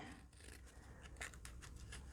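Scissors snip through sticky paper craft material in a quiet series of short, crisp cuts, close up and alone.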